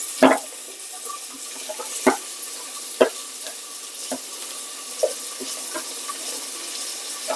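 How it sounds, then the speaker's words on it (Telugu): Onions dropped into hot oil with fried bay leaves, a steady close sizzle broken by occasional sharp clinks and stirring knocks from a spoon against the pan. "మనం లీవ్స్ అయితే ఫ్రై అయినాయి కాబట్టి ఆనియన్ వేస్తున్నాను"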